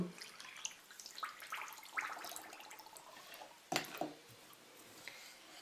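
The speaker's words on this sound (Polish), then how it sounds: "Do garnuszka wrzucam cukier i wlewam wodę" Water is poured onto sugar in a small pot for a syrup, a faint, close trickle with light splashes and a brief sharper splash partway through.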